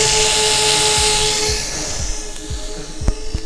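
An RC model airplane (Defiant Renegade) flies overhead with its electric motor whining steadily, then the throttle is released and the buzz fades while wind noise and soft thumps remain.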